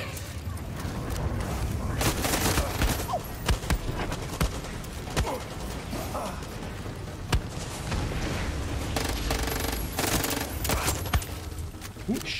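Rapid bursts of automatic gunfire and scattered shots hit the player in the video game Far Cry 6, loud and close with sharp repeated cracks across the stretch, under occasional voices.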